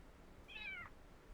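A house cat gives a single short, faint meow, alone against a quiet indoor background.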